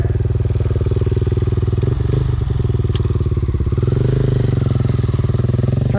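A KTM 890 enduro motorcycle engine runs loud and close, a steady rapid pulsing idle with a brief throttle blip midway and faint thumps, no talk over it.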